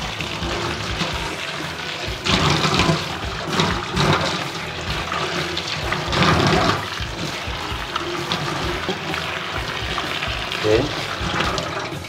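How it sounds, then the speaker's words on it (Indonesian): Kenikir leaves being washed under running water, a steady, loud gushing and splashing that fills the whole stretch with brief surges as the leaves are handled, and a voice faintly under it. "Kita cuci kenikir ini"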